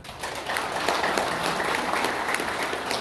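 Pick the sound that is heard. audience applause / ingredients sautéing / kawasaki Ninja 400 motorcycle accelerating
audience applause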